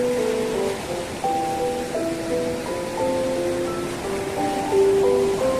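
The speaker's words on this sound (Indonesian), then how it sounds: "gemuruh ombak" Ocean waves roar steadily on a sunny beach at Nampu, a dense continuous surf wash with faint tonal sounds drifting over it and no speech.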